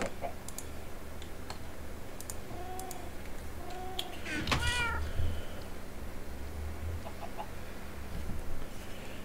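Several cats meow in the Minecraft video game, short, fairly close calls scattered over a background of in-game clicks and a chicken's clucks, with no one speaking.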